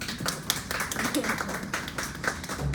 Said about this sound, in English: So let's give a round of applause to Mark Stubis.